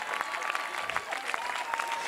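Audience applause at the Open des Brisants 2019 ITF Réunion men's final, a steady crackle of many hands clapping at moderate level for about two seconds, with a few faint voices underneath.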